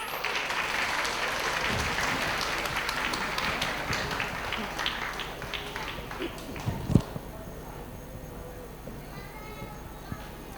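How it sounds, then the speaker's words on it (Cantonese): An audience at a school learning carnival claps for a souvenir presentation, warm, sustained applause that gradually thins out, with a voice over a loudspeaker talking through it. "請再一次以熱烈嘅掌聲，多謝各位嘅蒞臨同埋支持。"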